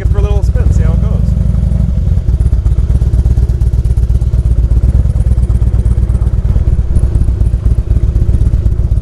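A 2003 Harley-Davidson Fat Boy converted to a Lehman Renegade trike pulls away, its loud, steady engine rumble close and continuous with rapid firing pulses, a brief clatter at the start.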